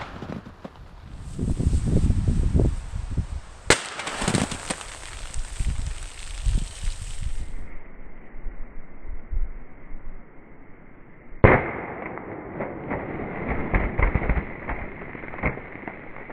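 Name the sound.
Keltec PMR30 22 WMR pistol shots at soda cans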